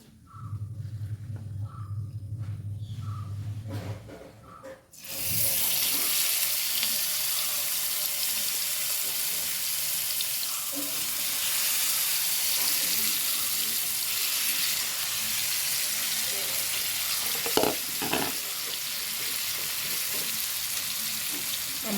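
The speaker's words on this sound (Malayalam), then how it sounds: "നമ്മൾ എണ്ണ ചൂടാക്കുന്നത് ഇനി ചെമ്മീൻ ഇതിലിട്ട് കൊടുക്കുകയാണ് ചെയ്യുന്നത്" Prawns drop into hot oil in a pan and a loud, steady sizzle takes over after a quiet start, with a couple of brief clatters of stirring partway through.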